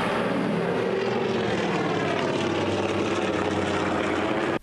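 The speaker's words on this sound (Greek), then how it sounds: "πυροσβεστικά αεροσκάφη Πεζετέλ που έφτασαν από την Κεφαλονιά και πραγματοποίησαν διαδοχικές ρήψεις νερού" Firefighting aircraft flying over a wildfire during water drops: a loud, steady propeller engine roar drones without a break and cuts off abruptly at the end, with no voices.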